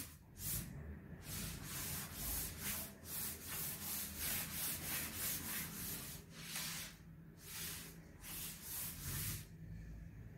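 Rubbing out writing on a board during a sets lesson: steady repeated scrubbing strokes, close and fairly loud, continuous with short pauses and no talking.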